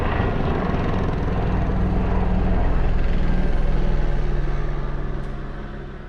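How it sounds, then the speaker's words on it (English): Loud, low rumbling helicopter with a throbbing rotor beat, swelling as it passes close overhead, then easing off slightly. "Hang on, another helicopter."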